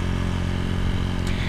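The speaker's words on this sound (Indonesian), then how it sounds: "karakter suara dari knalpot VND ini tuh adem ngebas, adem ngebas" Motorcycle fitted with a VND aftermarket exhaust idling at an easy pace, a steady deep bassy rumble with a mellow, even pulse, close and continuous with no talk over it.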